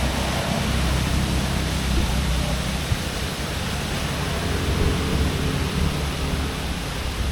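Rain falling outdoors in Pokhara, Nepal, a steady, loud, broadband wash of water that stays even throughout, with no voices heard.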